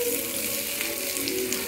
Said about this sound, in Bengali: ডাঁটাগুলো কিছুক্ষণ ভাজা হতে দেবো এগুলোর সঙ্গে।